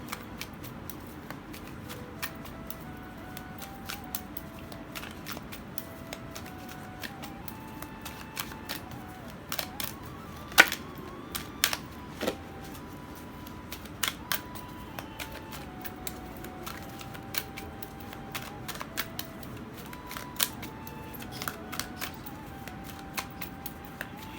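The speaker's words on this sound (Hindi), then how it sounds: "चलिए हम यहाँ से भी डेक से भी आपके कार्ड्स ले लेते हैं" Tarot cards drawn from a deck make light, scattered papery flicks and soft slaps against a quiet background, with one louder snap partway through.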